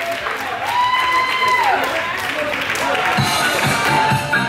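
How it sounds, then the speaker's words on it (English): Wedding guests applaud at a reception, a crowd's clapping swelling under an amplified MC voice and a sustained musical tone, with scattered louder claps near the end. "give yourselves another big round of applause"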